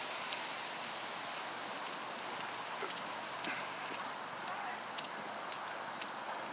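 Heavy rain pours down steadily outdoors amid street flooding, a dense, even hiss with scattered sharper patters and no break throughout.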